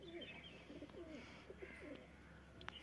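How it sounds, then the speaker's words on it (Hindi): Several pigeons coo softly in a rolling, repeated pattern at a home loft, steady and close, with a brief sharp chirp near the end and no talking. "तो सारे कबूतर यहाँ पे हमारे,"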